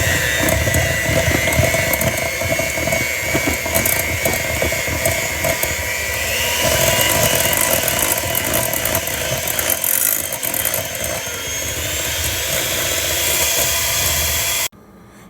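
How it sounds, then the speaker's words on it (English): An electric hand mixer whirs steadily and loudly for about fifteen seconds while beating wet ingredients with vanilla for pan dulce dough, then cuts off abruptly at the end. "with your hand mixer, you're going to want to mix your wet ingredients together"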